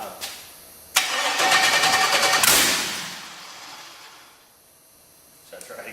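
An LS engine in a turbocharged Miata kart with no exhaust fitted cranks and catches with a sharp burst, roars loudly and raggedly for a couple of seconds, then winds down to a quieter idle.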